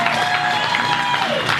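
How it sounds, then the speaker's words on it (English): A crowd applauds with dense, continuous clapping, loud and close, with some cheering voices mixed into the noise. "Give yourself a double round of applause."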